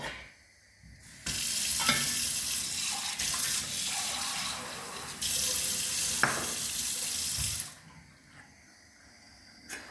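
Water runs steadily from a tap into a cooking pan of sautéed erbette for several seconds, a broad hissing splash that stops abruptly near the end, with quieter clatter before and after.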